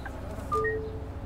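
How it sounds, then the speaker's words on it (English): An owl hoots once in the Bus Simulator 21 game, a soft, fairly faint call heard over a low, steady engine rumble. "Oh, can hear that owl hooting again."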